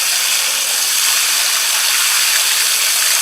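Water runs steadily over cucumber seeds held in a strainer, a close, even hiss of flowing water with no voices.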